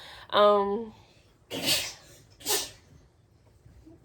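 A person sneezes indoors: a short voiced burst followed by two sharp, breathy noise bursts, each close and fairly loud against a quiet room.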